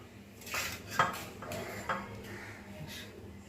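Dishes and cutlery softly clink while village-style kochu aloo dum, a taro and potato curry, is served: a few faint, brief clatters and scrapes of plates and utensils in a quiet room.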